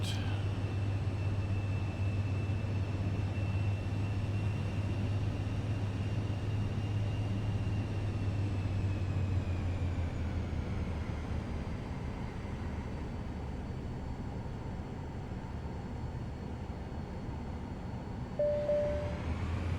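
Airliner rolling for takeoff on runway 18R in Microsoft Flight Simulator 2024, a steady loud engine roar with a rising whine that holds for the full stretch and then eases slightly near the end.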